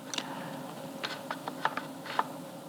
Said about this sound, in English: the scissors are moving back, touching the metal part, the scissors opener now, and getting pushed open by it